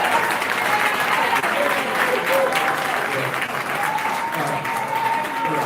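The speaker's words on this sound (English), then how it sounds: "give a round of applause to Mayor Lightfoot" A crowd gathered with village residents and trustees gives Mayor Lightfoot a steady round of applause, a continuous dense clapping that fills the room, with faint voices murmuring underneath.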